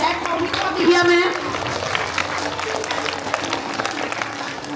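A school audience at a Founders Day celebration claps for a class teacher, a dense, steady wash of applause filling the whole stretch at moderate loudness.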